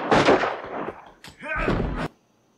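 Gunfire from the 1990 film Total Recall: a few loud, sharp bursts in quick succession, mixed with movie voices, before cutting to silence.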